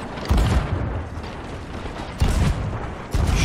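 Ship cannons fire in a Sea of Thieves arena battle, three loud booming blasts spaced a second or so apart over a constant rumbling wash of game noise.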